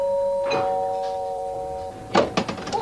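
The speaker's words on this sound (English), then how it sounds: "The doorbell rang, and I just went back the 2 stairs and opened the door." A doorbell rings with a clear sustained chime, then knocking or door sounds follow in a quick cluster of sharp hits.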